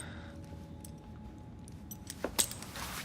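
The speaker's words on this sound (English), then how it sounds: "Now hand over your keys." Keys jangle briefly as they are handed over in Assassin's Creed Syndicate, a short bright metallic rattle near the end after a quiet stretch.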